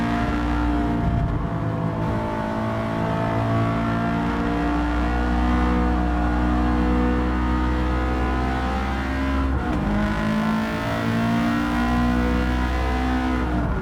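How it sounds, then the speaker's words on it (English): A rally car engine in Gran Turismo 7 on PS5 revving hard and shifting through gears, loud and continuous, with brief dips between pulls and no talking. "this car sounds so good"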